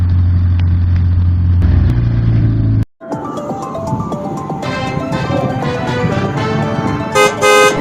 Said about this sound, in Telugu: ఏంటి హార్న్ సౌండ్?